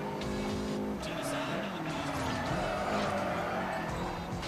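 A race car in Forza Horizon slides and loses grip, its tyres squealing over a droning engine that shifts pitch as it drifts through a corner, loud and continuous, with someone talking over it.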